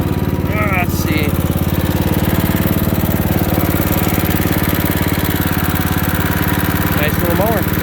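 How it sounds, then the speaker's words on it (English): A Craftsman LT1000 riding lawn mower engine running at a steady, rumbling idle, loud and close throughout, with brief voices over it. "Nice little mower."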